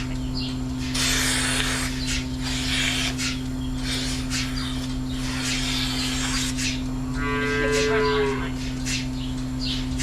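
A cow moos in a milking barn, one drawn-out low call near the end over a steady electrical hum from milking equipment and scattered rustling and spraying noises.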